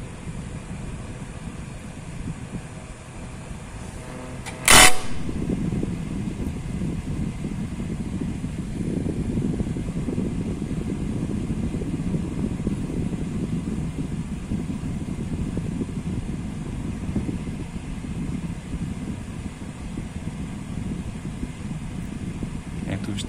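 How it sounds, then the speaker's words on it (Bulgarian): An electric fan blows air to cool a bimetallic thermal protection relay, starting with a sharp click near five seconds and then a steady broadband whir that continues close by to the end. "Ето го вентилатора."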